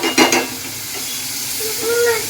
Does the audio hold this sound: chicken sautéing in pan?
yes